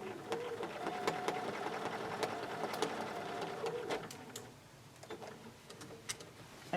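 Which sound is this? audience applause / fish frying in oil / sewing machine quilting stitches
sewing machine quilting stitches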